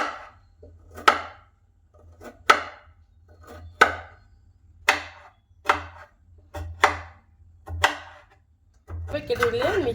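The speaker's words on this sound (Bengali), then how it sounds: "গাজরগুলো আমি ছোট ছোট করে কেটে নেব, ছোট ছোট করে পিস পিস করে কেটে নেব" Carrots are chopped into small pieces with a knife on a board, about a dozen sharp, separate strokes in an uneven rhythm, close and clear, ending in a brief burst of rustling handling.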